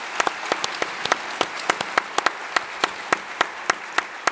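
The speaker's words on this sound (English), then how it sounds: "So I think it requires an applause" Audience applause at an annual EU policy conference, a steady round of clapping with distinct sharp claps standing out over the dense wash of hands.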